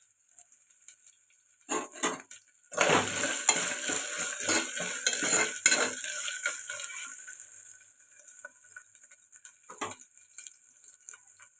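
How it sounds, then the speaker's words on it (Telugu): Freshly pounded ginger-garlic paste fries in a pan for a dal and tomato dish. A few clinks lead into a loud burst of sizzling and vigorous stirring, which then fades to quieter scrapes and a last utensil knock. "ఫ్రెష్గా దంచిపెట్టి వేసుకున్న అల్లం వెల్లుల్లి పేస్ట్ ఇది పచ్చివాసన పోయేదాకా ఫ్రై చేసుకుందాం"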